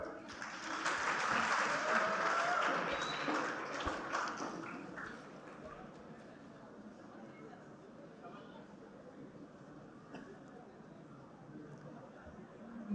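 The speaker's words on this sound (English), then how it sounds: "kindly give them applause." Audience applause at the IIHMR University convocation ceremony, loud and dense in the first five seconds, then fading to a softer, thinner clapping that continues to the end.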